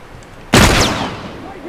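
Gunfire in The Last of Us Part II, one sharp loud broadband blast that starts abruptly and then decays slowly with a trailing echo, standing out over a quiet game backdrop.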